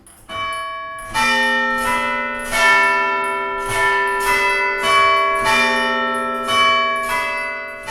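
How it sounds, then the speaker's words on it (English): Large bronze bells of Sydney Town Hall's clock tower ring out in a slow, overlapping sequence, each strike blooming with long resonant tones that hang and layer into a rich chime. "marking each hour by the striking of huge bronze bells and the chiming each quarter hour with the famous Westminster melody"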